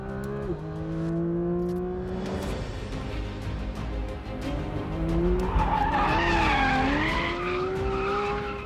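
A Porsche 911 GT3 RS's tires squeal in long sliding skids as the engine revs and pitches up and down, loud and close.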